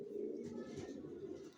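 Racer pigeons in a loft coo faintly and steadily for a moment, a low, soft, continuous murmur with no other sound over it.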